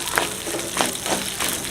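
Coriander seeds and chana dal dry-roasting in a pan for Pongal, giving a soft, steady sizzle with light scraping stirs recurring every half second or so, close and alone.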